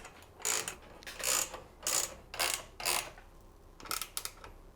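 A ratchet tightens an 8mm bolt on a ProSpeed roof rack for a Land Rover Discovery, giving repeated bursts of close clicking in a steady back-and-forth rhythm, with a brief pause before a final few quicker clicks.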